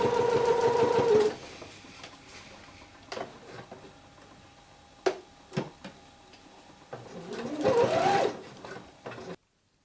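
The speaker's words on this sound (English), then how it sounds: "Sew this with a 1 cm seam allowance." Sewing machine stitching the cuff seam of a bomber jacket with a 1 cm seam allowance, a steady whirring run at the start and again near the end, broken by clicks and short pauses between bursts.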